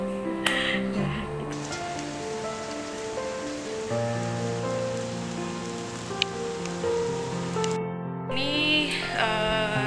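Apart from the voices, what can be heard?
rain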